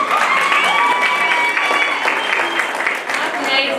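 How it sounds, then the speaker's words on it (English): A student audience at a school SRC campaign event breaks into loud, dense applause mixed with cheering, a continuous wash of clapping close by with voices threaded through it. "Round of applause for Mr. Robert"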